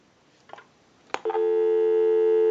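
A repaired antique candlestick telephone with a bell box gives a couple of clicks and knocks as the line is handled, then a loud, steady busy signal tone sounds up close.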